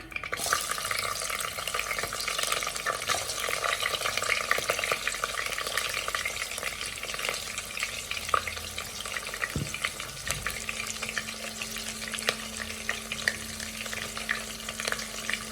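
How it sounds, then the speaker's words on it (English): Onion frying in hot oil with star anise and rosemary, a continuous dense sizzle with occasional stirring clicks, steady and close, with no talking. "Our oil is hot now. I'm adding in some 1 star anise and 1 rosemary. And our onion is going in."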